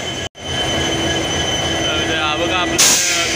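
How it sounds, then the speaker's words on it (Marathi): The Konkan Railway Mandavi Express runs on the line between Panvel and Rajapur, a loud continuous rumble of wheels on track with a sustained squealing tone, heard close from on board. "बघा आपलं कोकण कोकण मांडवी एक्सप्रेसचं इंजिन बघा आपलं तिथे आहे, आवाज काय येणार नाही, गाडीचा आवाज आहे"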